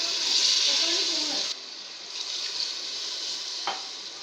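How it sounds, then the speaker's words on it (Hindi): A loud hiss and sizzle of water poured into a hot pan of frying masala for pasanday, fading into steady bubbling after a moment, with brief speech underneath. "पसंदों को मसाले में डालने के बाद अब हम इसमें पानी डाल देंगे।"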